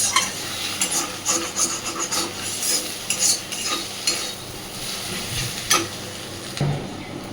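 Egg and snake gourd fry together in a pan, giving a steady sizzle under repeated scraping and stirring strokes from a utensil, with a few sharper clinks against the pan along the way.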